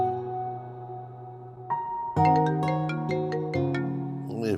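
A melodic phone ringtone plays a rising sequence of bright tonal notes over a softer earlier chime, close and clear, filling a quiet domestic breakfast scene.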